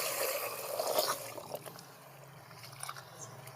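Water poured and splashing close by at first, then dwindling to faint trickles and drips in a quiet room.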